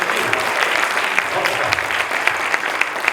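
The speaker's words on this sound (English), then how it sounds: "Give her a big round of applause." A live audience claps for a woman who has just spoken on stage at a millionaire-mindset seminar, with steady, dense applause filling the room and no gaps throughout.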